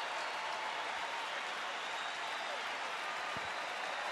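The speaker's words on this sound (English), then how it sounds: "getting a standing ovation from this sellout crowd at Rangers Ballpark in Arlington" A sellout ballpark crowd at Rangers Ballpark in Arlington gives a pitcher a standing ovation, a dense, steady roar of applause and cheering that fills the whole stretch without a break.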